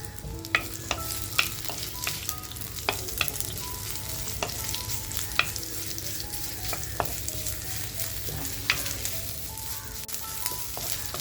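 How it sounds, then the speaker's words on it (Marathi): Sliced onion frying slowly in oil in a clay pot over a low flame, with a soft, steady sizzle broken by scattered sharp clicks and taps of stirring, fairly quiet and with no talk. "कांदा बघा आता आपला हलकासा लाल होत आलाय"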